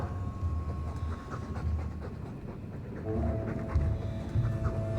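A Mabari war dog in Dragon Age 2 pants steadily and rapidly over a low, rumbling game ambience, with no talking.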